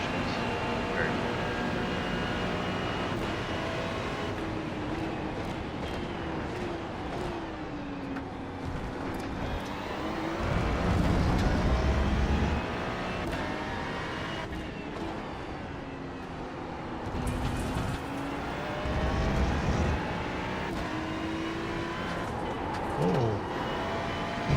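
A Porsche race car engine in a racing game drones and revs through rising and falling pitch sweeps as it shifts, steady and moderately loud, with engine notes from other cars mixed in.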